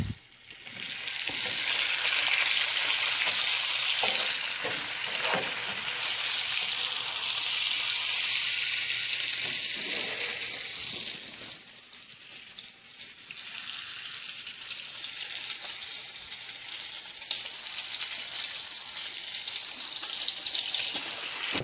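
Bacon sizzling steadily in a pan, a dense, loud crackle and hiss that runs throughout, easing briefly midway before picking back up, with faint clinks from cooking, no talk.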